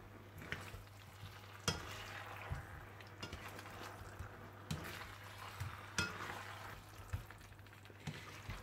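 Chicken is stirred with seasoning in a pan on the stove, faint repeated scraping strokes and occasional utensil clinks over a steady low hum, no speech.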